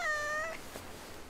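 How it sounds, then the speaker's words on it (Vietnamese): A stray cat in a Doraemon cartoon gives a single clear, drawn-out meow, loud and close, ending after about half a second and followed by quiet room tone. "Thì ra là một chú mèo hoang à."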